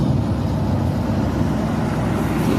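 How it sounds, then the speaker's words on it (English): A big truck drives down the street, a dense, steady low engine rumble heard fairly close and continuous throughout, without talk. "This big ass truck coming down the street"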